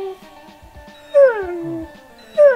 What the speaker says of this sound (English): Oh yeah, you can pet dogs!